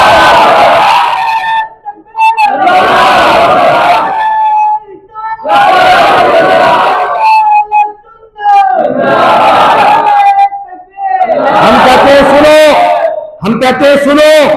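At a Ramadan Friday sermon, a large congregation shouts religious slogans in loud, repeated bursts, roughly every two seconds with short pauses between, the massed voices ringing together in call-and-response waves.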